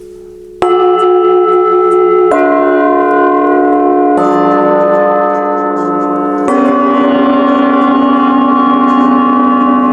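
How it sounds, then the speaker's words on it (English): Burma bells struck with a modified chime mallet, four loud strikes spaced a couple of seconds apart, each overlapping the long ringing tail of the previous one with bright sustained overtones. "I normally strike them with my modified chime mallet."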